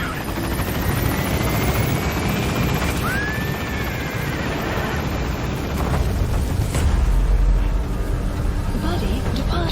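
Helicopter Pequod from a video game arrives at the landing zone, its steady loud rotor and engine roar filling the scene with a rumbling low swell near the end, while radio-style voices talk over it.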